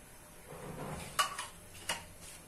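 Oil poured into a kadai on the stove, a soft splashing wash followed by a few sharp metallic clinks of a utensil against the pan, close and alone.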